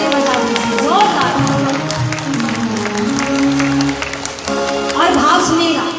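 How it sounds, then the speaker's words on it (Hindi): Audience clapping at a devotional evening in a grain market hall, a crowd applauding loudly while music plays and voices carry over it. "एक बार जोरदार तालियां अपने अपने माता पिता के लिए बजा दीजिए, जोरदार"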